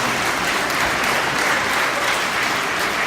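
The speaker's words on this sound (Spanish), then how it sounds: "Démosles un aplauso" A church congregation applauds, many hands clapping together in a thick, even roar that stays loud and unbroken throughout, with no voices on top.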